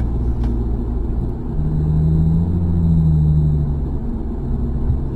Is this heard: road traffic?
yes